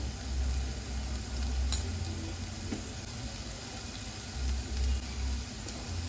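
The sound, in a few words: frying in oil with turmeric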